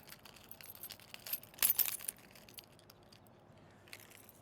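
A brief jingle of keys on a lanyard clinks close by, a quick metallic rattle in an otherwise quiet room.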